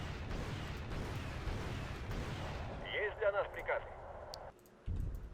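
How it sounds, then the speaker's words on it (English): Artillery barrages boom in the Cold War strategy game Wargame: European Escalation as guns fire at Bradley vehicles, several deep rumbling blasts with sharper reports in the middle, under a talking voice and game noise. "artillery's firing at the Bradleys"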